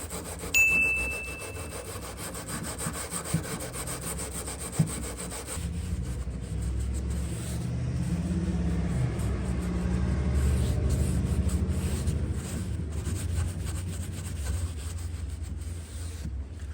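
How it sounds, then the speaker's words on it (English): Wire brushes scrub over burl wood furniture soaked with acetone, a steady rasping rub that runs continuously, louder and fuller in the second half, with a faint metallic ting near the start. "I use my wire brushes to get into any kind of crevice that's hard to reach with my carbide scraper"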